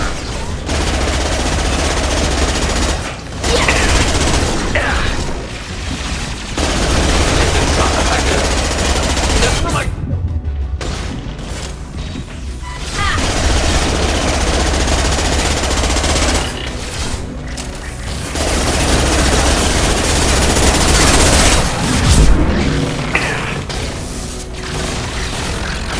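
Continuous combat gunfire from Mass Effect 2 roars loudly for most of the stretch, dense automatic bursts and booming impacts layered together, with brief lulls before the shooting resumes; game voice lines are spoken over it.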